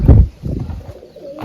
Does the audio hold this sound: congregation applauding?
no